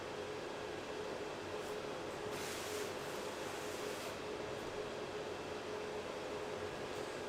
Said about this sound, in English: that just be the printer. The printer is very loud.